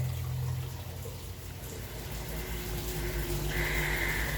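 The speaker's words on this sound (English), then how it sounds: "Water's flowing down through there." Water runs steadily down a channel inside a tavern, a soft continuous rushing and trickling that holds even throughout, with a brighter splashing layer rising near the end.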